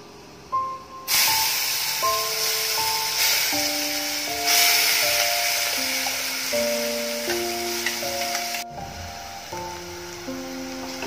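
Ground masala paste sizzles and hisses loudly in hot oil as it is sautéed for dhaba-style chole, with a steady frying roar that briefly drops away, under a backing of instrumental music.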